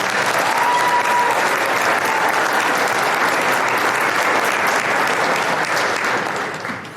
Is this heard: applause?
yes